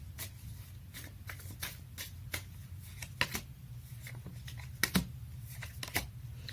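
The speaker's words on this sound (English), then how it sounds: "Let me pull some cards from the universe for you." Tarot cards are shuffled and pulled from a deck during a reading, giving quiet, repeated riffling and crisp snaps in an irregular rhythm, heard up close with no talking.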